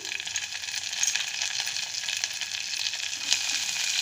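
Curry leaves hit hot oil in a pan, a bright continuous crackling sizzle with small pops, close and steady throughout, no voices.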